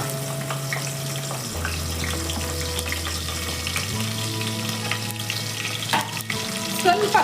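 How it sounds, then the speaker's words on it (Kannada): Sliced onions hit hot oil in a pan, setting off a loud, steady sizzle that crackles and spits for several seconds, with the hiss shifting as they are stirred. "ಎಣ್ಣೆ ಕಾದಿದೆ. ಈರುಳ್ಳಿ ಹಾಕೋತಾ ಇದ್ದೀನಿ."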